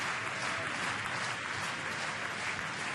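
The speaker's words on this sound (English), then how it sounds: "the hand clapping that you hear in the background, a familiar feature of top 14 games in France" A rugby crowd at a junior world championship bronze final claps in unison to encourage the kicker: a dense, steady wash of many hands, loud and continuous from start to end, with no voices rising above it.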